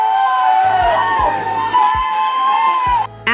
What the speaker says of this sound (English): Crowd cheering on the beach.